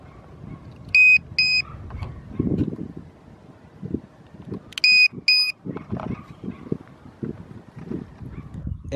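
Battery alarm buzzers on an agriculture sprayer drone let out two pairs of short, shrill electronic beeps, several seconds apart, over low handling noise and clatter.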